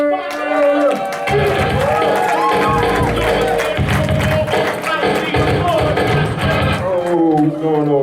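Comedy club audience clapping and cheering as a comic takes the stage, loud dense applause with whoops running for several seconds, then a voice over the tail.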